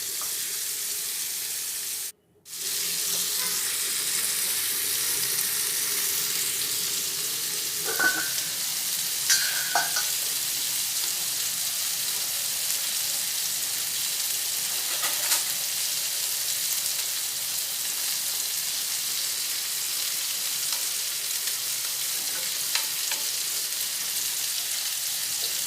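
Chicken fries in a pot, turned to cook its other side for a one-pot rice lunch, giving a steady, moderate sizzle with a few faint clinks and a brief break near the start, no talking.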